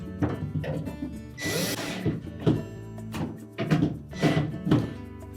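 Retaining screws are driven back into the ice dispenser of a Whirlpool refrigerator with a power driver, several short whirring bursts and thunks close by, separated by brief pauses, with no talking.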